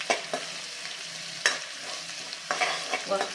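Garlic paste sautéing in butter for pav bhaji, a soft continuous sizzle broken by several sharp scraping stirs of a spoon against the pan, close and clear with no voices.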